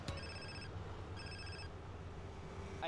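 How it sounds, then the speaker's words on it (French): A phone in the video game GTA San Andreas rings in two electronic bursts with a pause between them, clear but fairly quiet over a low background hum. "Téléphone là, non?"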